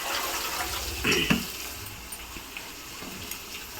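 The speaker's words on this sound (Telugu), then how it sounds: "మనం ఇప్పుడు ఏం చేద్దామంటే నీళ్ళని నంపుకుందాం" Water is poured into a pot of masala for chicken mandi biryani, a brief splashing burst near the start that soon settles into a low, quiet background hiss.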